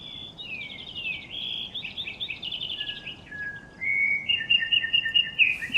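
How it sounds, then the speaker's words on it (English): A loud bird sings from a tree in the DayZ game world, with bright warbling chirps and sliding whistles that run on continuously, fairly close and clear over a faint hiss, with no one talking. "Why is there always a loud bird in my tree?"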